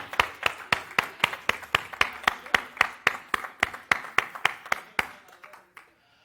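Rhythmic clapping at a church service, a group clapping in a regular evenly spaced beat of about three claps per second, stopping abruptly after five seconds with a faint trailing spatter.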